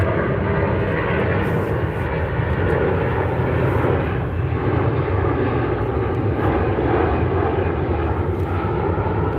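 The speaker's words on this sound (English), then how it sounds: "I'm gonna let the plane pass." A propeller airplane drones steadily overhead for the whole stretch, a loud, continuous engine roar with no talk over it.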